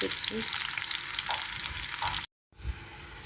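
Pointed gourd (potol) sizzles steadily in hot oil in a pan, a close, continuous crackle with a few soft stirring clinks and a brief cut to silence near the end.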